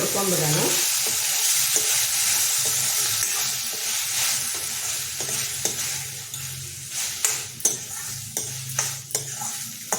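Chopped paneer sizzles in a hot pan while being stirred, a steady loud frying hiss with scraping and clinks of the utensil growing toward the end.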